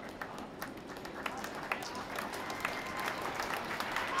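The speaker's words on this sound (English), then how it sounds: "Big cheer for Tash McMahon there." Crowd cheering and applauding at a broomball national finals game after an injured player walks off, a steady wash of claps and voices with scattered louder whoops and commentary over the top.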